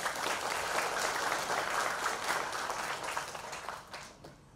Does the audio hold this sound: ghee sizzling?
no